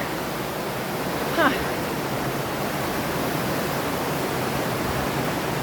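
Small misty waterfall in Bavaria, a steady broadband rush of falling water filling the whole clip at moderate level, with one brief faint chirp-like sound near the start.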